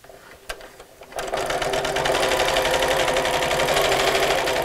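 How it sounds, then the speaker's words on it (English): A sewing machine stitches around the edge of a Christmas bauble appliqué cushion, starting with a few tentative stitches before settling into a loud, steady, fast mechanical whir close by, with no talking. "we'll do this until we get back to where we started sewing from"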